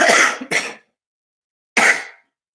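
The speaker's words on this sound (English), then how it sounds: "that cough is evidence that I don't smoke enough" Two quick, harsh coughs from a smoker close to the microphone, followed by a short pause and a third raspy cough.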